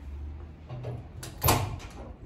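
A house door being opened at a home with pitbulls, a low scrape and latch clunk building to a louder rattling release, close by in a quiet room.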